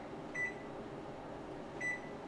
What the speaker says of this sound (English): let me turn down this oven and then we'll reset our timer